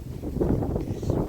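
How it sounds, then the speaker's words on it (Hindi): Strong, cold wind blows outdoors, gusting against the microphone as a steady low rumble with rising and falling buffets throughout. "देखा आपने कितनी तेज़ हवा चल रही है बहुत तेज़ हवा चल रही है।"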